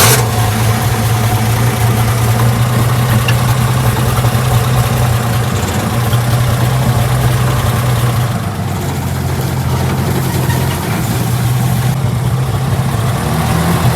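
A restored 1974 Ford F250 truck with its doors removed runs steadily at close range, its deep, loud engine rumble continuing evenly throughout with no talking.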